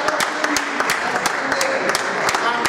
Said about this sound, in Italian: Un grandissimo applauso a Luca.